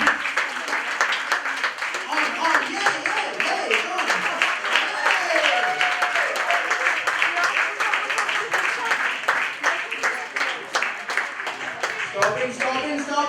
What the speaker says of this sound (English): Huge round of applause. Come on, huge round of applause.